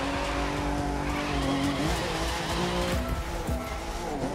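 A car drifts in the racing video game The Crew 2. Its engine drones steadily and loudly while tires squeal and skid throughout, with no talking.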